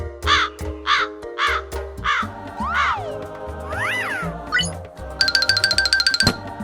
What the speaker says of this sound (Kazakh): қарға